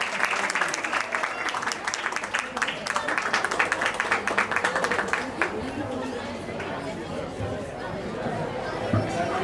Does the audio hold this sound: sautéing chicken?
no